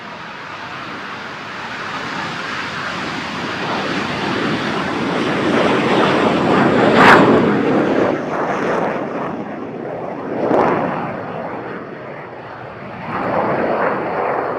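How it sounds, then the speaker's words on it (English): An intermediate jet trainer takes off at the Aero India air show in Bengaluru, a loud, steady jet roar with broadband rush and wind noise that swells and holds close by for the whole stretch. "the takeoff of the intermediate jet trainer right in front of you"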